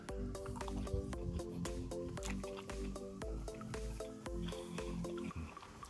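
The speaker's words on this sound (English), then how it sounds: "So let's try it now with the spicy mayo sauce. Let's get a good coating of it on there." Spicy mayo sauce is worked over McDonald's Spicy McNuggets in close, wet squishing and dripping sounds, a quick, irregular series of sticky squelches.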